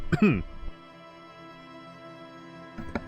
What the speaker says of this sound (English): that cough came completely out of nowhere